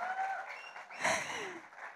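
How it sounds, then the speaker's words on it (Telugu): Brief, fairly faint applause from an audience for director Suman at a Telugu film event for Satyabhama, swelling around the middle and then thinning out over a soft background. "ఒకసారి గట్టిగా చప్పట్లు ఫర్ ద డైరెక్టర్"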